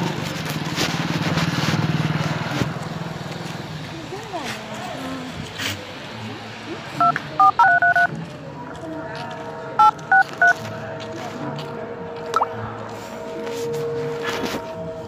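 A mobile phone's keypad gives two short groups of dialing beeps in a noisy outdoor spot, over a rumbling engine and people talking.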